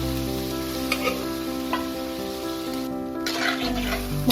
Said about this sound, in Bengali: এবার এতে আমি সামান্য জল অ্যাড করব।